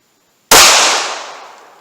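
A single loud, sharp gunshot from a .380 Auto pocket pistol firing Remington UMC full metal jacket rounds at water jugs outdoors, an abrupt crack followed by a slowly fading echo, with no talk.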